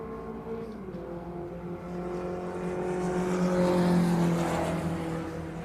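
A race car speeds past during a qualifying session at Donington Park, its engine note rising and swelling loudly as it nears and then holding steady, with a sustained roar and no talk over it.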